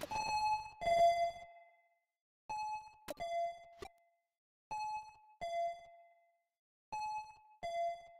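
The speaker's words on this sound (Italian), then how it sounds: "Loro continuano a bussare lo stupido campanello." In Needy Streamer Overload, a two-tone ding-dong doorbell rings four times in a row with short silent gaps between rings. Each chime is clear and close, with a faint click on some of the presses.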